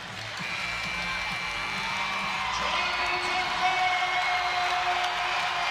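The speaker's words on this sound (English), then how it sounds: "Just listen to that crowd." The crowd at a UC San Diego versus UCLA men's volleyball match roars at set point, a dense, sustained wash of cheering and whoops that swells slightly toward the end, with no speech over it.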